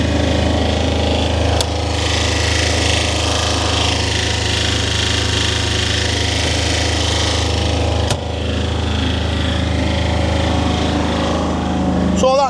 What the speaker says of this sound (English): This is an air-cooled engine